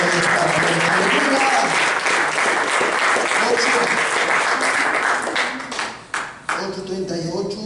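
A church congregation applauds during a sermon, loud dense clapping mixed with voices and cheers, tapering briefly near the end before picking up again.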